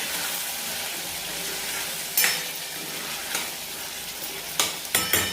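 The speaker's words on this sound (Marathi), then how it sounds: "5 मिनिट आपल्याला छान मिक्स करून घ्यायचं आहे आणि शिजू द्यायचं आहे मंद गॅसवर" Mutton curry simmers in a kadhai on low gas with a continuous bubbling sizzle, and a few scattered spoon scrapes and clinks come as it is stirred, close with no voices.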